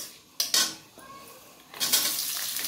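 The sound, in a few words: onions added to hot oil, frying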